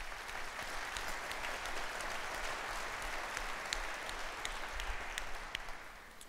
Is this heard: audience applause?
yes